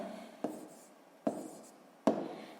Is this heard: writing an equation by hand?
yes